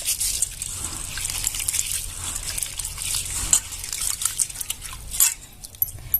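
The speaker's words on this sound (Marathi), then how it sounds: "गहू छान असे दोन हाताने चोळून मस्तपैकी धुवून काढायचे" Wheat grains are rubbed and washed by hand in plenty of water, giving continuous close splashing, trickling and dripping with gritty swishes of grain.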